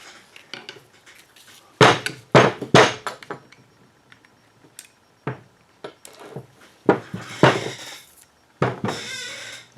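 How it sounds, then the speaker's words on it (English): Metal tools click, clink and tap sharply against a motorcycle front fork while a small retaining clip is pried out, an irregular series of close, clattering knocks and scrapes. "I'm going to pop this clip out."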